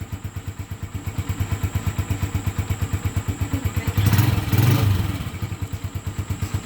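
A motorcycle engine idling nearby with a steady, rhythmic putter, briefly revved louder partway through before settling back to idle.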